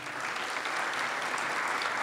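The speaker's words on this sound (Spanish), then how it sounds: "renovamos el aplauso" Renewed applause from an audience at a 2021 sports awards ceremony during photographs of an honoree with family, a dense, even wash of clapping sustained from start to finish with no voices.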